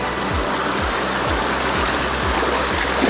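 River water rushes steadily over small falls in a continuous loud, broadband wash, with a recurring low thump and swirl beneath the steady roar.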